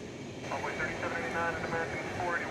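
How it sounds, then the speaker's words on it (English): Qatar Airways Airbus A350-1000 taxiing from its parking spot toward the terminal at DFW airport at night, a steady low engine rumble and hum with a faint whine, heard from a distance. "Qatar A350 1000, which will be going off to Doha later this evening. It's leaving its parking space to go to the terminal area"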